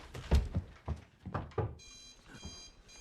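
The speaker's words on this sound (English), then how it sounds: "that alarm sounds horrendous" An alarm clock beeps in rapid repeated bursts, starting partway through, under some close thumps and clatter.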